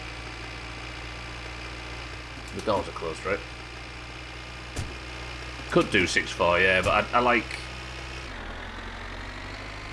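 Tractor engine idling in freezing minus 40 weather in My Winter Car, a steady low rumble running under someone talking, the pitch dropping slightly near the end.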